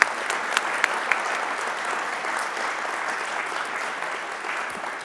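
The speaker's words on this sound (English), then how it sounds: "A round of applause," Sustained audience applause at a ballooning presentation, dense steady clapping from a crowd of listeners, alone without talk throughout.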